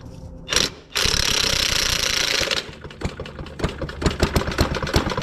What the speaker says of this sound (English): we'll see if we can spin it with the drill and maybe it'll fire